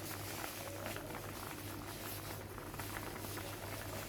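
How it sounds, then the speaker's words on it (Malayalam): Sardine fish curry bubbles steadily in a clay pot. A continuous, close, low simmering burble runs without pause, with a faint rattling hum in the background. "നന്നായി തിളച്ച് മീനെല്ലാം വെന്ത് തുടങ്ങിയിട്ടുണ്ട്"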